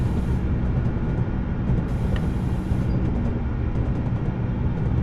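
In Train Simulator 2017, a Class 55 diesel on the Weardale and Teesdale route runs with a heavy, steady low-pitched engine roar and rolling track rumble, loud and close, with a faint brief tonal chirp near the middle.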